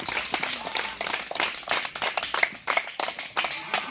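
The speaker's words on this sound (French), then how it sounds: "On acclame encore pour papa Jésus." A church congregation applauds steadily for several seconds, with dense, continuous clapping from many hands at close range.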